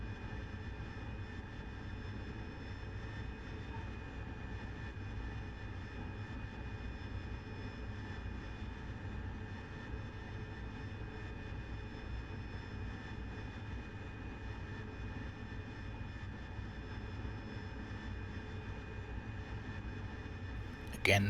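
A steady, loud jet engine drone from an AV-8B Harrier in the DCS World flight simulator holds constant as the aircraft moves abeam the ship's landing spot during a case recovery at sea, with no breaks.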